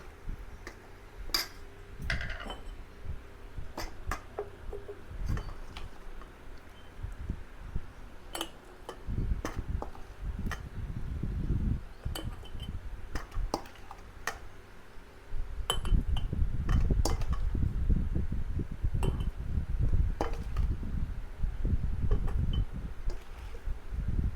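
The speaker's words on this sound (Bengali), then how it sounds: "তেলটা ঠান্ডা হয়ে গেছে এবার আমি বয়েমে তুলে দেবো" Mango oil pickle is spooned into a glass jar, producing scattered sharp clinks and ticks of utensil against glass amid soft rustling and scraping that thickens later on, with no one speaking.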